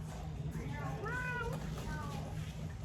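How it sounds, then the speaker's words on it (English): A house cat gives a few short, rising meows in close succession, heard close up over a low, steady background rumble. "More kitty cats. More cats."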